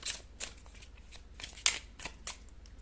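Tarot cards drawn and shuffled close up, a handful of soft papery flicks and slides spaced irregularly, with one sharper snap near the middle, quiet overall and with no talking.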